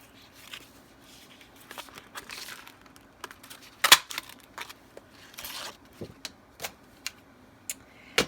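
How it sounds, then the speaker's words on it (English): Glimmer paper is cut and then punched with a 2-inch circle punch, producing scattered crisp clicks, snaps and crinkly paper rustles in an irregular rhythm, close and fairly quiet, with one sharp louder snap midway. "punch it out with the 2-inch circle punch"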